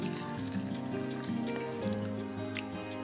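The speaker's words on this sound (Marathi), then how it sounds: "आपण आता हे वांग्यांमध्ये पाणी टाकून ठेवणार आहोत" Water splashes from a running stream into a bowl of six cut eggplants, a steady close pouring and gurgling sound with small drips, heard without any talking.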